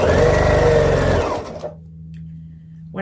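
A sewing machine runs briefly while piecing a quilt block, a loud close whir for about a second before stopping, leaving a faint low hum.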